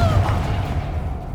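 A Confringo blasting spell in Hogwarts Legacy goes off as one deep, loud, booming blast with a short whooshing tail that fades over about a second.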